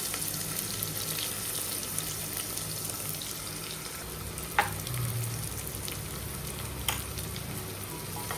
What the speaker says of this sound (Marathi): कांदा छान तेलामध्ये आता आपल्याला परतून घ्यायचा